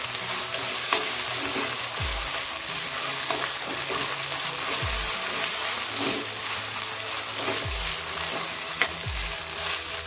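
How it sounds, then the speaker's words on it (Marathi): Fried onions with ginger-garlic paste in a pan, a continuous hiss of frying oil broken by occasional spoon scrapes and light knocks against the pan as it is stirred, with no voices. "आणि ह्याला आपण छान ढवळून घेऊया।"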